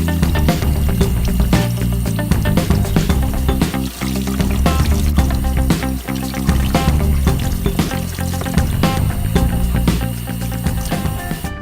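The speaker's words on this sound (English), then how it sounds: "now we're just gonna bring it over to the sink and wash it out like as directed" Water runs steadily from a sink tap while a car air filter from a Nissan Sentra is rinsed under it, a loud continuous close splashing and pouring with uneven surges throughout.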